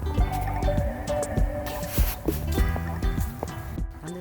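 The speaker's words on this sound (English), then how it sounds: "Oh, the sound of water." Water near lily pads makes close, irregular drips, splashes and gurgles with a wet, squishy texture, fairly loud and continuous.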